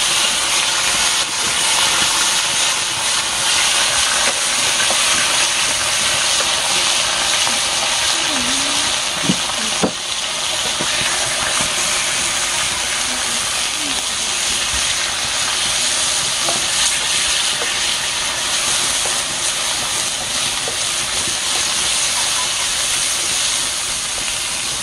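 Onion and tomato frying in a pan over a wood-fired fogón in the Dominican countryside, a steady loud sizzle and hiss held throughout, with a few faint clinks and stirring sounds.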